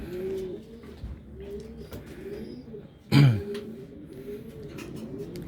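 Racing pigeons coo in low, soft repeated calls close by, with a brief louder flutter or knock near the middle and faint background noise throughout.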